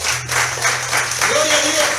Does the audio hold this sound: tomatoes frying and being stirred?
no